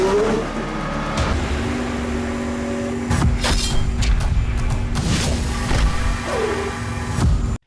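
The Mercedes-AMG One's F1-derived engine in a road-legal car revs loudly and close, with sharp bursts and rising pitch sweeps separated by brief idle stretches.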